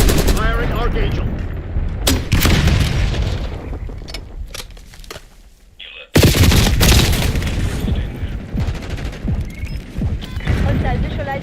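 A heavy Archangel weapon from RoboCop: Rogue City fires in loud, sharp bursts with mechanical clanks, a brief lull, then another sustained blast of gunfire and booms near and dominant.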